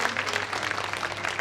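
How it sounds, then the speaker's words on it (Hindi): A seated gathering at a Shrimad Bhagwat Katha event gives loud, dense applause for the host family; a continuous wash of many hands clapping at once. "तो एक बार जोरदार तालियां हमारे यजमान परिवार के लिए"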